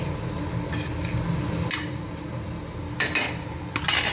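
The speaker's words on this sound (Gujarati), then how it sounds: "ઢાંકણ ઢાંકી દઈશું, અને હવે આને આપણે થવા દઈશું." A lid set down onto a cooking pot of tomato sev curry, giving a few sharp metallic clinks and clatters close by, with no voices.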